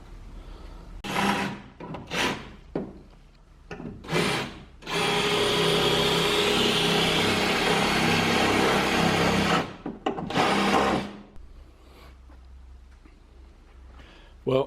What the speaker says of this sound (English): I thought that if I drilled out those pop rivets, those spot welds, the piece might come off.